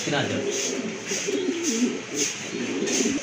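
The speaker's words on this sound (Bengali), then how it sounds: "এটা হচ্ছে আপনার একদম টকটকে লাল গিয়ারের কবুতর দেখার মতো" Pigeons at a pigeon market coo in soft, repeated throaty rolls under close, continuous talk, with regular bubbling pulses all the way through.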